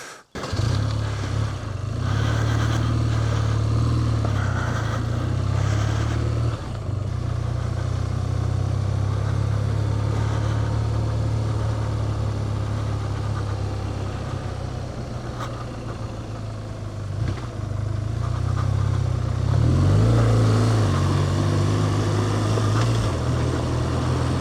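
A BMW R12 G/S motorcycle engine drones steadily while riding off-road, a close, continuous low boxer-twin rumble that dips briefly and then swells again as the throttle opens.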